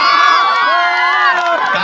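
A crowd at a public gathering cheers and shouts loudly and continuously, with excited voices rising in a sustained roar for the short stretch.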